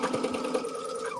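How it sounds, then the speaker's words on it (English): Sewing machine chain sewing fabric pieces for a Dresden plate quilt, a steady close whirring stitch that runs continuously for a moment with faint talk underneath. "I'll start chain sewing them"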